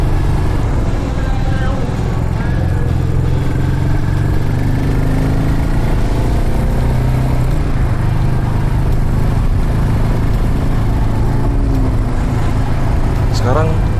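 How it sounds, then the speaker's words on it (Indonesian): A Royal Enfield Meteor 350 single-cylinder motorcycle engine runs close by with a steady, low, throbbing drone that holds evenly throughout without revving. "Jadi kita bisa nikmatin suara khas mesin satu silinder RT tanpa getaran."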